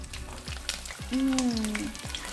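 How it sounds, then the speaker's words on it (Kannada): Fish fry sizzling in a pan at a family cooking day, a constant close crackle with light stirring thumps, and a brief tonal voice-like sound rising over it midway. "ಒಂದು ಕಡೆ ಫಿಶ್ ಫ್ರೈ ರೆಡಿ ಆಗ್ತಿದೆ"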